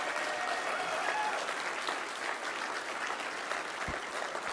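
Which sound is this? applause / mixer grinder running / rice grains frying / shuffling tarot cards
applause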